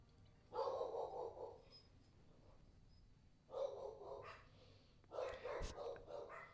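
Dogs bark indoors in three separate bouts, each a short cluster of barks with quiet gaps between, rather faint and somewhat distant.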